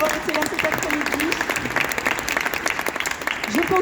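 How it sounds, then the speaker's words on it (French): An audience at a dubbing conference at a vintage and retrogaming fair applauds, a steady wash of many hands clapping throughout, with a voice speaking over it. "Je pense qu'on peut lui faire un tonnerre d'applaudissements, s'il vous plaît."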